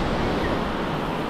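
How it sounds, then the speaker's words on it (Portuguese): Strong northeast wind blowing on the coast at Arraial do Cabo, a steady, loud broadband roar buffeting the microphone, with surf-like rushing noise filling the brief moment and no voices. "Ainda o vento nordeste é muito forte."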